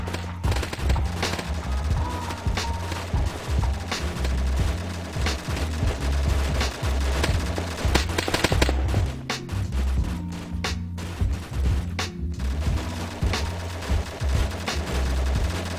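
Soldiers in ArmA training fire continuous close gunfire, mixing rapid automatic bursts with single cracks. The shooting stays loud and dense throughout, with a few brief sharper volleys.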